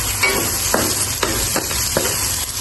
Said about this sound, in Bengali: এখন দিয়ে দিচ্ছি আদা, রসুন, পেঁয়াজ বাটাগুলো। আরো ভালো করে একটু ভেজে নিব।